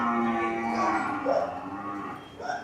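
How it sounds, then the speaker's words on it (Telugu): Murrah buffaloes on a farm near Hyderabad give a few drawn-out, rumbling moos, one long low call followed by shorter ones, close and fairly loud with no talk. "మొత్తం ఇక్కడ గేదెలు ఉన్నాయి"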